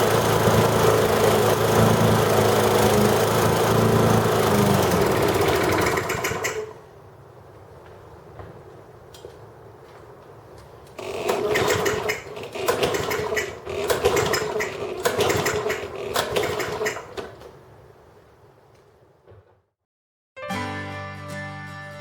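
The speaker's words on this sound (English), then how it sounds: "My goal here is to run the mower until the fuel system is completely dry." A push lawn mower engine runs loud and steady, then drops to a sputtering, surging idle with bursts of revving as the fuel runs dry, cutting out briefly before a final restart.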